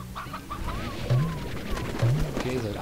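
Chickens cluck in the Slime Rancher video game, with short repeated clucks and warbling calls over a busy game soundscape and a low roaring background sound.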